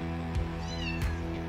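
A cat meows twice, fairly faint and close, over a steady low electrical hum.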